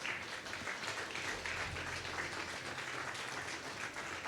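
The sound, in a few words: congregation applauding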